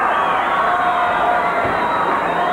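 A wrestling arena crowd at an NWA Central States show cheers wrestler Ted Oates in a dense, continuous roar of voices filling the hall.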